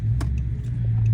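A Dodge 6.4-liter SRT8 V8 idles with a steady, loud low rumble, suspected of a lifter fault or an exhaust manifold leak; faint ticking sounds sit over the drone.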